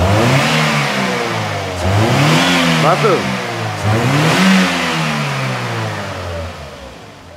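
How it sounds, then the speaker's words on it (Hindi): A Toyota GLi car with a freshly fitted new engine, revved repeatedly in loud rising and falling sweeps over a steady idle, close up, with someone speaking briefly over it. "ये इसका फाइनल साउंड है गाड़ी का जो इंजन नए का निकला है"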